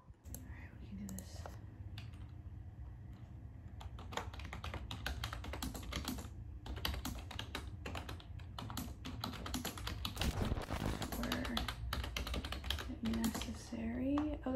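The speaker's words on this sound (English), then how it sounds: "I still have to do this typing test." Typing on a computer keyboard: steady rapid key clicks run through the whole stretch, close and moderately loud, with some soft speech or whispering beneath.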